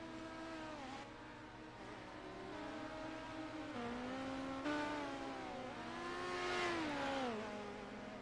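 Simulated midget race cars at Knoxville, five in the field, whine in rising and falling engine tones as they lap the track, heard from high above the grandstand, steady and moderately loud with no talk.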